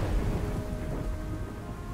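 Thunder and heavy rain in the Dungeon Defenders video game on a dark, stormy mountain-peak level: a continuous dense rain wash with low rumbling thunder, steady and close, with no talking.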